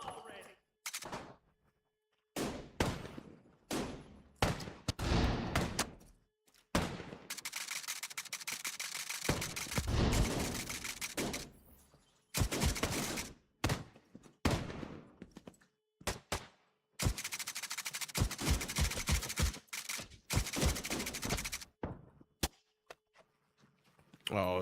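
Turret and LMG fire in The Division 2 Dark Zone: repeated bursts of rapid automatic gunfire separated by quiet gaps, loud and near, with people talking between the volleys.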